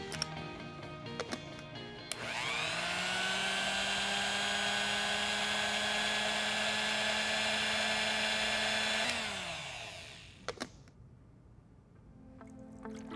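A blender whizzes parsley with its stalks: a loud, steady motor whine runs for about seven seconds, then winds down, with a few clicks before and after.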